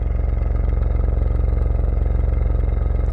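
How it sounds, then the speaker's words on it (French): A Ferrari engine idles at the exhaust with a steady, deep, throbbing rumble and an even low pulse, close and fairly loud, with no talking. "je vais quand même vous faire écouter le son du moteur au ralenti au niveau de l'échappement"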